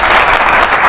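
An audience at a religious gathering bursts into loud, dense applause, a continuous roar of clapping close and sustained throughout.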